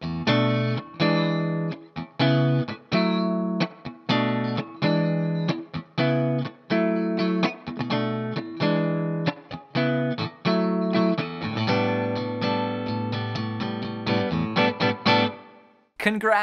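Electric guitar plays the chorus of a song, with rhythmic chord stabs and choppy muted strums, then a busier strummed stretch near the end, loud and close with effects coloring the tone.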